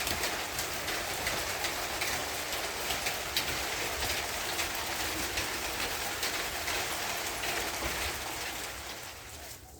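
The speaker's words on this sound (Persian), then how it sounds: "یه خورده بهشون آب بارون بخوره" Steady rain patters densely and evenly on sprouted wheat in a colander, with a bird calling faintly in the background, fading slightly at the end.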